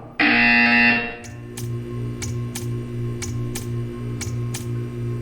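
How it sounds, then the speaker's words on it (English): A loud electronic buzzer from Portal 2 blares for about a second, then fades into a steady hum with sharp clicks ticking at a regular pace. "You will hear a buzzer. When you hear the buzzer, stare at the art."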